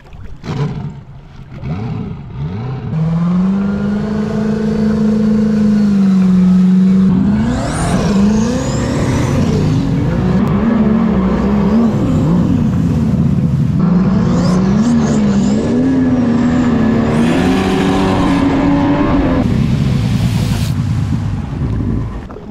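A powerful V8 turbo jet ski engine revs up hard and holds a loud, rising roar, pitch climbing and wavering, with wind and water noise around it.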